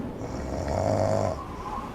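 A man snores in the video game Dark Corners of the Earth, one long drawn-out rasping snore rising to a loud peak and then fading, heard alone and close.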